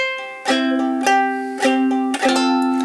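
A short ukulele passage played clawhammer style, bright plucked strums with ringing notes in a lilting rhythm, close and clear with no talking.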